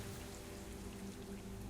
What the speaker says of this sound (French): c'est comme si j'étais dehors, il y a la pluie sur moi.